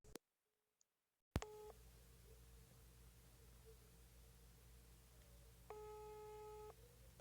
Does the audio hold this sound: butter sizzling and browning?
no